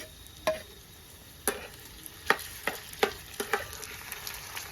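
Potato curry stirred in a pan over a steel fire stove, a series of sharp scraping clacks from the spoon at an uneven pace over a low steady sizzle, close up with no talking.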